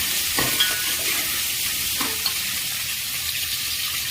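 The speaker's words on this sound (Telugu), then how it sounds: "ఈ ముక్కలు కొంచెం వేగుతున్నాయి" Onion and green chilli pieces fry in a pan for a pulse-based rasam, giving a steady close sizzle with a few soft stirring scrapes, no voices.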